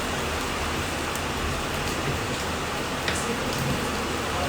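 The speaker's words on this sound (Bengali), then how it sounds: "বৃষ্টি তো কমবে বলে মনে হচ্ছে না" Steady rain pouring outdoors on a monsoon day, a dense, even patter on surfaces with occasional sharper drips, continuous and fairly loud with no talking.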